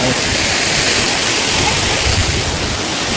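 A waterfall at Plitvice Lakes in Croatia gives off a loud, constant roar of rushing, crashing water that fills the whole clip with no breaks.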